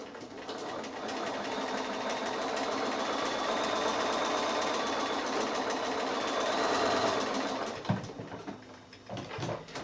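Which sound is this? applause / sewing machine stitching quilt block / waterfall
sewing machine stitching quilt block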